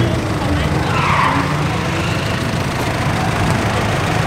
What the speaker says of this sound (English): What a drift car.